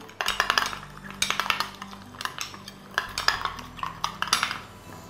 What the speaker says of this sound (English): Salt, and just mix it together.